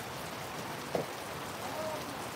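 Heavy rain falls on a farm as a steady, even hiss of drops, with one brief faint knock partway through and no voices.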